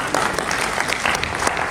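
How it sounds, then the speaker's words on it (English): Applause from an audience at an Afreximbank trade roadshow at the EJS Ministerial Complex, a dense steady clatter of many hands clapping close by, with no clear voices over it. "If you agree with me, please clap for me."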